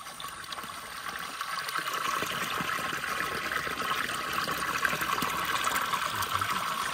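Spring water fed down from a hillside source gushes hard into a fish pond, a dense, steady rushing and splashing that stays loud and unbroken throughout with no voices over it.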